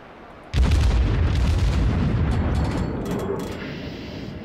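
An enemy battleship's shell salvo lands nearby in World of Warships, a sudden loud deep boom that rolls into a sustained rumbling blast lasting several seconds, with a few faint crackles on top and no talking.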